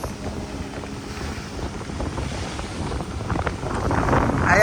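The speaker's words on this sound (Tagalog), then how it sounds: "medyo malakas yung hangin" Strong wind buffets the microphone on a beachfront, a continuous low roar that grows louder toward the end, with the sea faintly present and no one talking.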